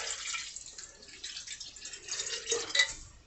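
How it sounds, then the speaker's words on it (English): Watermelon moonshine mixture is poured into a jar, a faint, close trickling and splashing with soft glassy clinks near the end. "we're going to pour this into the jar"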